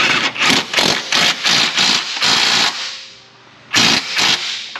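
Power tool loosening subframe bolts on a 2016 Jeep Compass 2.4 4x4, loud rapid rattling bursts repeating in short on-off pulses, close and alone.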